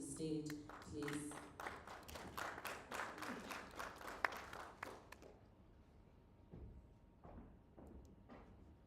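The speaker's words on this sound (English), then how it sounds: "you can give me a round of applause as we welcome Ambassador Regan Shole to the stage" Summit audience applauds as an ambassador is welcomed to the stage: dense clapping in the first half, with a voice and some tonal sound mixed in, then thinning to a few scattered claps amid quieter room noise.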